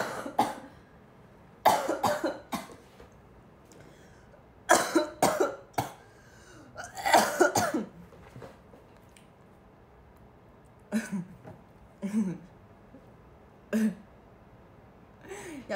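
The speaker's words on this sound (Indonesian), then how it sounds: "aku mau batuk dulu" One person coughs and clears their throat in repeated bursts, several harsh coughs spaced out over the span with quiet pauses between them.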